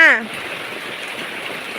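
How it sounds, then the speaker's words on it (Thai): Rain falls in a steady soft patter at a Thai livestream, a brief voice opening before the even hiss of the downpour continues alone. "ถ่ายให้ดูฝนตกค่ะพี่เอ็มพี่เอ็มจ๋าฝนตกค่ะ"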